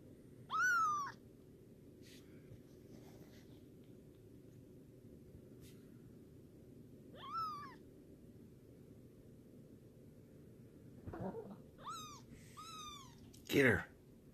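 A playful kitten meows in short rising-and-falling calls, spaced out at first and then bunching together near the end, over a steady background hum with occasional soft thumps.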